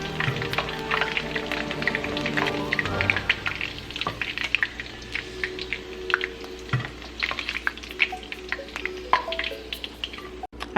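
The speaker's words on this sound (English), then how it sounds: "After frying the chicken, this is how they're looking" Chicken pieces frying in hot oil for lemon chicken, a steady dense crackle and sizzle with scattered sharper pops and light clinks of utensils, close and continuous throughout.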